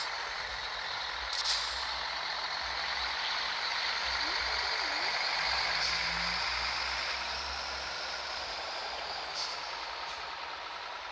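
A truck in the Grand Truck video game idles while parking, with a continuous engine drone, hissing air-brake releases and faint reversing beeps, as a voice talks over it.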